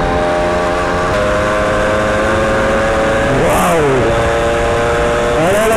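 A moped engine drones steadily at close range, its pitch dipping and rising again as the rider shifts speed, loud throughout with no talk.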